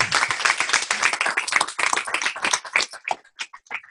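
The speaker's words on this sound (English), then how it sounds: "Hand of applause, everyone." A crowd at a youth peace summit bursts into dense applause that thins out toward the end into a few scattered, separate claps.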